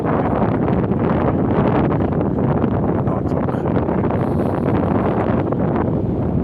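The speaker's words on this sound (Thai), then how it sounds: "แต่วันนี้วันที่สองนี่ก็ลมแรงนะครับ ลมหนาวมา จริงๆนะครับ" Strong cold wind blows by the Mekong River at Nakhon Phanom, roaring continuously and buffeting the microphone, with a faint voice speaking briefly underneath.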